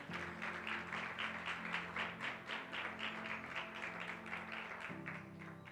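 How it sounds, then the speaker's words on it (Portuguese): A church congregation claps steadily in a rhythmic, even beat, a warm mass of applause with faint music lingering underneath. "Se assente, aplauda ao Senhor."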